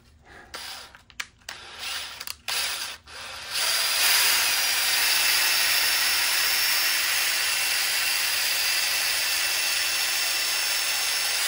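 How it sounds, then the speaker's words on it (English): A power saw cuts through steel threaded rod, a few short bursts giving way to a long, loud, steady whining hiss that continues to the end. "When you make your cuts on threaded rod, when you're trying to make long bolts"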